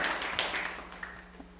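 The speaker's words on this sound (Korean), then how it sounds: "크게 한번 박수 한번 쳐봐요" Soft, scattered clapping from a youth church service audience, faint and somewhat distant, fading over a second and a half with no talk.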